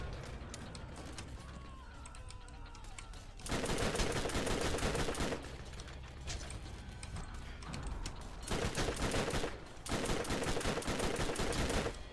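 Gunfire in the looter-shooter game Borderlands, with bursts of rapid shots in two loud stretches separated by quieter game noise, mixed with other game effects.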